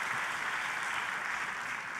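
A church congregation applauds for God during a sermon, giving a steady, dense wash of clapping that stays even and continuous throughout, moderately distant and without any voices on top.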